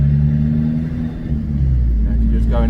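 An Abarth 595 fitted with a Toyosports exhaust and a 200-cell sports cat drives at a gentle pace. Its low engine drone and rumble stay steady and close, with a brief rise near the end.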